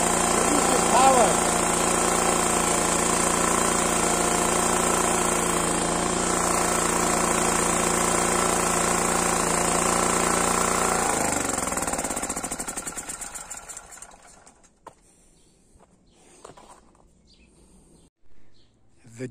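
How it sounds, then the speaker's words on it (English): A Honda ECM 2800 generator running on homemade biogas drones loudly and steadily nearby, then winds down and falls silent toward the end, leaving faint birdsong. "The generator is a Honda ECM 2800 and it has two outputs"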